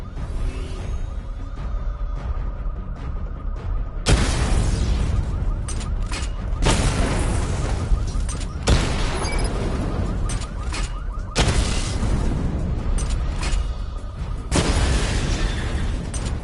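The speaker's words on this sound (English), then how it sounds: "Charge the missile barrage to level 2 to destroy up to 4 targets at once." A missile barrage from a video game erupts in several loud bursts of explosions, each a thick roaring blast with crackle, separated by quieter stretches of mechanical hum, close and without talk.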